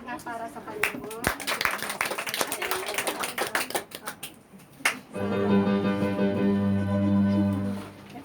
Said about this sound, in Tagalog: Isang palakpak na para sa Panginoon